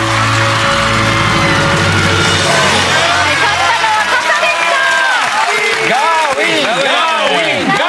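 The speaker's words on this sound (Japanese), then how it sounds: "プライドをかけた真剣勝負に拍手。" A studio audience claps and cheers after a contest between an unbreakable umbrella and a powerful wind machine. The dense, loud applause comes with whoops and excited yells, and voices rise over it in the second half.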